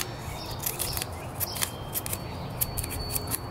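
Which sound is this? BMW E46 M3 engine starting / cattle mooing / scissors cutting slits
scissors cutting slits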